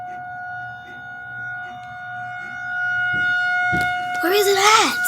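A warning siren drones steadily in the distance during a blizzard, then a louder wailing siren sweeps up and down near the end, with a voice speaking over the background.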